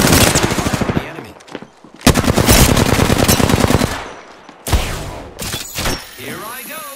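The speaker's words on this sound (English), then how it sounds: "I am taking fire" Bursts of automatic video game gunfire during a battle royale match as the ring closes, with loud sustained volleys broken by short pauses and a few sharper single shots, plus game voice lines.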